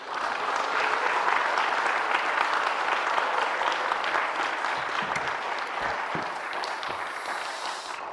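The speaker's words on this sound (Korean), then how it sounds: "이제 우리 목사님을 뜨거운 박수로 우리 함께 맞이하겠습니다." A church congregation at a spring revival service applauds to welcome the pastor, with sustained, dense clapping from many hands filling the room at a steady level that tapers slightly toward the end.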